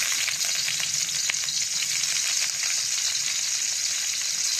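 Onions frying in a pan for chicken adobo in coconut milk, with garlic already in the oil, give a steady, close hissing sizzle that continues evenly with no talk.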